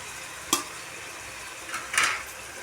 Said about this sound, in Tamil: சேர்த்துட்டு நல்லா பச்சை வாசனை போகிற அளவுக்கு வதக்கணும்.